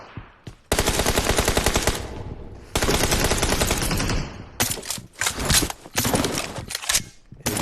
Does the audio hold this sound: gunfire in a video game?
yes